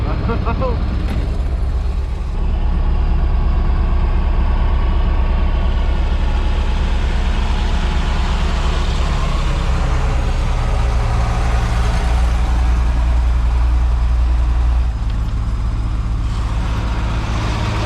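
A truck engine rumbles loudly and continuously in snow, steady low drone with a slight rise in revs midway as the wheels spin, heard from inside or close by.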